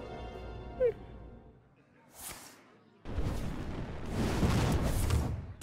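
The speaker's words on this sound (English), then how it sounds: "Oh, Arcane Explosion." Arcane Explosion spell effect from the card game Hearthstone: a sudden loud, dense magical burst that swells and sustains for a few seconds after quieter game sounds.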